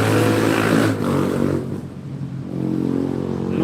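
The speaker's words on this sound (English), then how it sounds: "Motorcycles making noise out here." Motorcycles outside producing a continuous loud engine drone with a rising and falling pitch, as if revving and passing nearby, filling the whole stretch with no talk.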